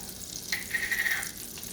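Garlic frying in a pan for chicken Alfredo, a faint soft sizzle that swells briefly as it is stirred, then settles back to a quiet hiss, with no voices.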